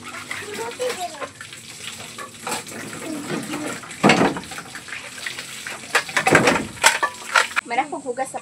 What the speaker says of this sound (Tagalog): Mara ko hugas sa plato,